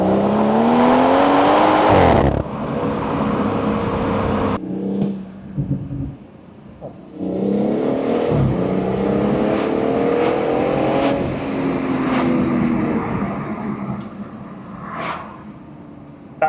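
A BMW M140i fitted with an M Performance exhaust and carbon tips revs hard with a loud, rising engine note, then drops into crackling overrun burble between bursts of throttle.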